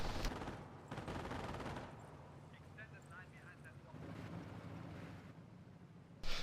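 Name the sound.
machine gun firing in Company of Heroes video game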